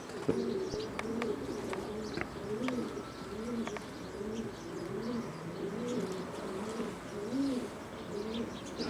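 Several racing pigeons coo in soft, repeated low rolling calls, with a few faint chirps and clicks in the background.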